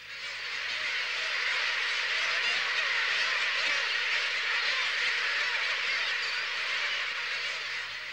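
A huge seabird colony of gulls and terns, close to half a million birds nesting on Isla Raza in the Gulf of California, fills the air with a dense, continuous roar of overlapping calls, steady and loud throughout.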